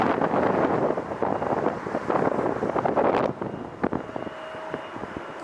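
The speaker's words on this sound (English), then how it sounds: "We have lining up Delta Flight 2606 A321-2 going to Seattle, Washington" A Delta Airbus A321 lines up for takeoff at LAX, its loud, steady jet roar mixed with wind buffeting on the microphone, then dropping away to a quieter hum and faint whine.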